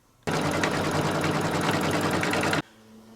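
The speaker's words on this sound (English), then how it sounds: "you can remove the template and begin stitching" An embroidery machine stitches a quilt in a fast, loud, continuous mechanical rattle that starts abruptly, runs for over two seconds and stops sharply, with no voices.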